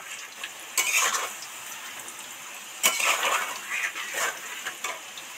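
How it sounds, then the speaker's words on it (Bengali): Deep-fried potatoes lifted one by one out of hot oil, with a bright sizzle under the background and a few sharp clinks and scrapes of a utensil against the pan. "আলুগুলো একটা একটা করে তেল থেকে উঠিয়ে নিচ্ছি।"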